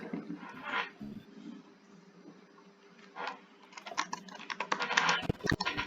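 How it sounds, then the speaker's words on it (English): Rapid clicking of a computer keyboard being typed on, moderately close, in irregular bursts that grow denser and louder toward the end, with faint background hum and no speech. "He's typing again."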